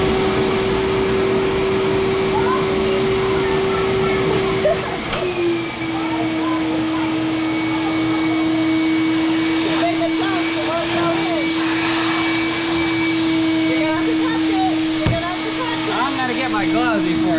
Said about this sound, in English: I'm going to get the shop vac and evict the current tenants